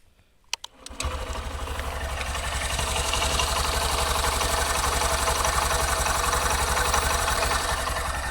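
A Honda SP125 BS6 motorcycle with 86,000 km on it starts after a few clicks and settles into a steady, even single-cylinder idle, a loud, close, rapid low putter running uninterrupted with no talking.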